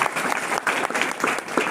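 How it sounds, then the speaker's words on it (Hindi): A congregation at a Hindi-language evangelical church service claps together in a dense, continuous burst of applause, fairly loud and close, filling the whole moment. "ताली बजा के"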